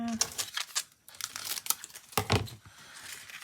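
Paper is torn and crinkled close up in several rough ripping bursts with short pauses, loud and crackly, while a voice talks at times.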